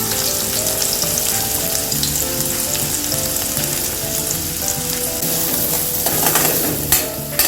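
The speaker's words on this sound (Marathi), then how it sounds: "कांदा चांगला गोल्डन ब्राऊन होईपर्यंत आपण परतून घेऊ." Onion frying in hot oil with cumin, two bay leaves, two cloves and a cardamom pod, a steady close sizzle and crackle running throughout with occasional stirring scrapes near the end.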